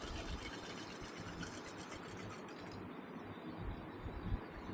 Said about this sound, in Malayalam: മാർക്ക് ചെയ്ത് ലൈനിൽ കൂടെ സ്റ്റിച്ച് ചെയ്ത് കൊടുക്കുക